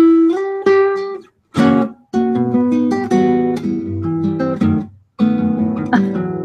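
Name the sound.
guitar playing Villalobos Choros No. 1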